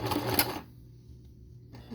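A sewing machine stitches fabric for a face mask in a short quiet burst of mechanical whirring that stops after about half a second, leaving near silence.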